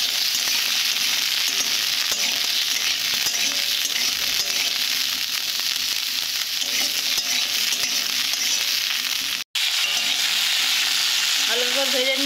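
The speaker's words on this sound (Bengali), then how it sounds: "লবণ ছড়িয়ে ভালো করে ভেজে নেব।" Vegetables fry in a pan with a scattering of salt, a steady dense sizzle running loud and continuous, broken by one brief silent gap, with faint stirring scrapes near the end.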